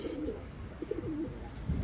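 A pure Geerincks racing pigeon coos softly in low, rolling murmurs, close by, with a faint background hum.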